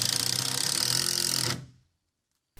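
A powered driver sinks screws into plywood wall sheathing on a workshop build, a loud close whirring buzz that runs about a second and a half, then cuts off abruptly into silence.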